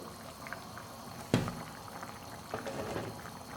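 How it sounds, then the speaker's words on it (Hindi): Water bubbles under a pot lid as rice cooks over the flame, a soft continuous simmer with a sudden splashy burst and a few lighter gurgles. "ये देख सकते हैं ढक्कन के अंदर से पानी उबलता हुआ नज़र आ रहा है हमें।"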